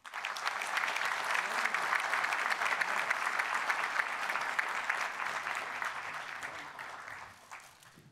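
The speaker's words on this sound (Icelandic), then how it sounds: "Ég gefa þeim gott klapp." Sustained applause from an audience at an annual meeting of Icelandic fishing industry companies, dense and steady for about seven seconds before tapering off near the end, with no talk over it.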